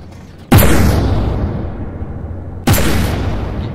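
Two cannon shots in the naval combat game From The Depths go off a couple of seconds apart, each a sudden loud blast followed by a long, rumbling decay.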